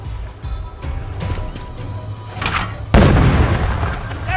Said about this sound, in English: Bombing us again!